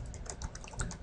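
Rapid computer keyboard typing while entering text in Microsoft PowerPoint, a close burst of crisp, evenly spaced key clicks with no voices.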